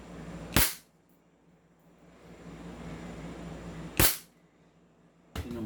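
An SRC Umarex Glock 17 airsoft pistol fired through a chronograph: three sharp, loud snapping shots, spaced several seconds apart, with a faint hiss in between.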